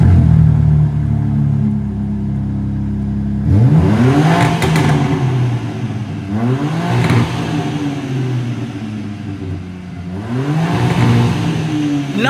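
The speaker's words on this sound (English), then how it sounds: "What does the exhaust on the M4 Competition sound like?" BMW M4 Competition, a 2024 model driven in Cape Town, with a steady exhaust drone that swells into three loud revving bursts, each climbing and falling in pitch, close and alone with no talking.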